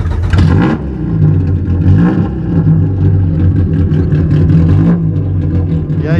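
A Chevrolet Corsa engine is started and revved, its loud mid-range roar rising and falling in several strong pulls across the whole stretch, close by and with no speech over it.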